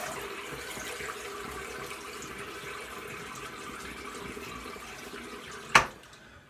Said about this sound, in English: I'm going to rinse up here real quick.